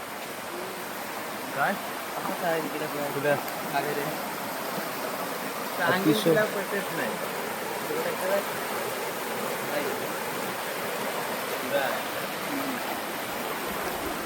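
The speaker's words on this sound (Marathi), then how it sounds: "हा जंगलातला नैसर्गिक ओढा या ठिकाणी आपल्याला दिसतो" A natural forest stream flows with a steady, bubbling rush throughout, with a few louder splashing surges; a voice murmurs faintly in places.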